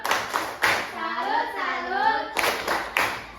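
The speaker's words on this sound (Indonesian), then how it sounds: "Ya, beri tepuk salut kalau tepuk salut" A school class does the 'tepuk salut' clapping routine: sharp, loud claps in a patterned rhythm, with children's voices chanting in unison between the beats.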